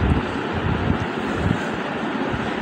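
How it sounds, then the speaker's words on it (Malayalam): Wind blows across the backwaters in Alappuzha, a steady rumbling gust buffeting the microphone with a continuous low roar and no talk. "നല്ല കാറ്റ്"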